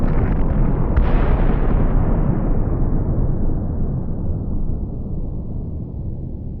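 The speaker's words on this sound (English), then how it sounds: "Air Force slow-mo cruise missile impacts." Slow-motion Air Force cruise missile impacts: one deep, sustained explosive roar that swells and then slowly rumbles away over several seconds, loud and continuous with no voices.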